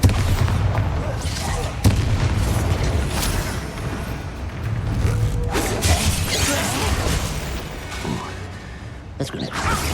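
Bombarda blast spells in the video game Hogwarts Legacy, heavy booming impacts and crashing bursts amid dense combat noise, with sharp hits near the start and end and spoken incantations and dialogue throughout.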